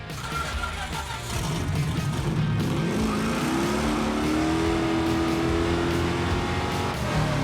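The Wreck Runner project car's engine revs hard and climbs steadily in pitch, a loud close roar that holds near the top of its range.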